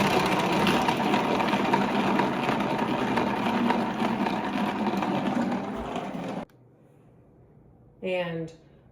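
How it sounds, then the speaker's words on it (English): A salad spinner whirls washed lettuce dry on a kitchen counter, a steady loud mechanical whir lasting about six seconds before stopping abruptly, followed by a brief voice. "I'm going to spin my lettuce dry"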